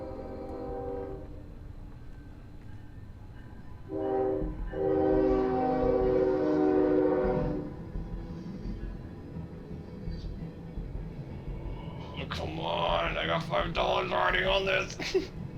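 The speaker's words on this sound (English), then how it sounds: "Upon hearing the incoming train" A train approaches and passes near an old site, its horn sounding in sustained tones, followed by rumbling and clattering wheels, with people talking over it.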